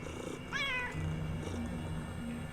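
A cat in the video game Underrail gives a single clear meow over a steady low ambient hum, fairly close and alone with no talk.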